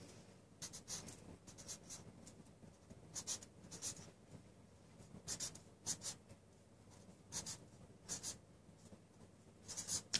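A pen scratches shorthand symbols onto paper in short, quiet strokes, arriving in small bursts with pauses between them, close and alone.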